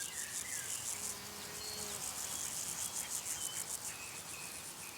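Insects buzz and chirr steadily in a marshy meadow, with a pulsing high cricket-like trill and a few faint passing buzzes. The sound is even and continuous, with no voices.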